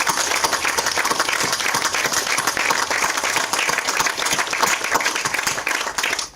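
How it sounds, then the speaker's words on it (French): A crowd at an outdoor foundation-stone ceremony for a new neighborhood in Frouzins, France, applauds loudly and steadily, continuous dense clapping with no voices over it. "On peut les applaudir."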